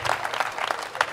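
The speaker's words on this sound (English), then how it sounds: "Please give a massive round of applause to Mike Grandinetti." Short burst of audience applause at a venture day event in Madrid, with close, irregular claps at a steady moderate loudness.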